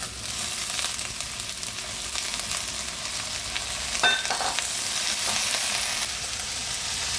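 Small talangka crabs and pechay cook in a pan with pepper, giving a steady close sizzle throughout and a brief clatter of stirring near the middle.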